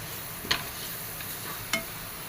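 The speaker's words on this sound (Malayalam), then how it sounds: "ഇതൊന്ന് വഴറ്റി കൊടുക്കാം." Spices, mostly small bird's-eye chillies and black peppercorns, being sautéed in a pan for medicinal rasam, giving a steady soft sizzle with two brief stirring scrapes.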